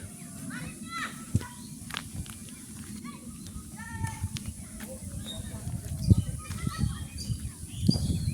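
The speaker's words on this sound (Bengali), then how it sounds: "আপনারা কি পাখির ডাক শুনতে পাচ্ছেন?" Birds chirp and call in a rural village, with short bird calls scattered over steady low outdoor rumble and faint children's voices and activity in the background.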